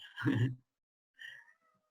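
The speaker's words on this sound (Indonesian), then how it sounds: "Ini maaf nih kalau ada suara kucing." A cat meows indoors in a room: one clear meow, then a shorter, fainter second cry after a pause, with no other sounds around.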